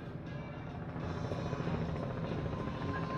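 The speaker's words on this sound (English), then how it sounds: "So yeah, this chopper is still overhead." A News Channel 6 television helicopter flies overhead above Disney World resorts, its dense rotor chop and engine roar loud and continuous throughout, growing slightly stronger midway.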